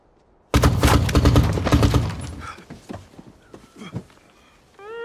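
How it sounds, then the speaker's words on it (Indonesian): Gunfire in an action film scene about police hunting a mafia gang: a dense, loud burst of rapid shots for about two seconds, then scattered cracks and impacts. "Marco dan teman-teman barunya justru tewas ditembak oleh Zamba dan pasukannya."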